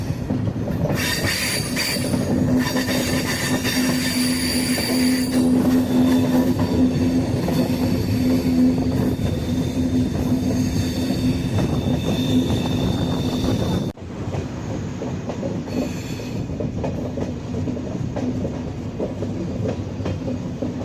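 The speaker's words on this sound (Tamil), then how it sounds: "என்னடா ரயில் பிரிட்ஜ் மேலே ஏறுறோமே," The Santragachi AC Express rolls onto a bridge, a steady loud rumble of wheels with squealing and rhythmic clickety-clack, wind buffeting the microphone, and the tone shifting abruptly as the train moves onto the span.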